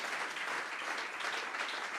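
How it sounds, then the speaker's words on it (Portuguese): A church congregation gives a round of applause during a Portuguese-language service: dense, even clapping from many hands that fills the room and sounds fairly distant, continuing steadily with no talk. "Damos um aplauso para Jesus."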